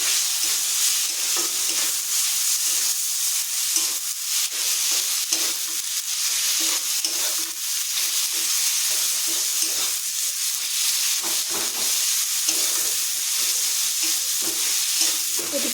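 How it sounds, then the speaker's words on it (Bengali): Fish head sautéing with a little chili powder in a pan, a steady close sizzle and fry hiss running throughout with frequent stirring scrapes and clatters, no talking. "এখন কষতে থাকবো"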